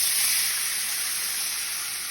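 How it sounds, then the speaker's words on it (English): Beef broth poured into a hot skillet after browning meat, giving a steady bright sizzle and hiss of steam that stays loud and even, tapering only slightly. "I'm deglazing my skillet"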